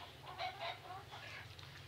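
A country hen clucking softly in a village setting, a few faint, close clucks in a short quiet stretch with no talking.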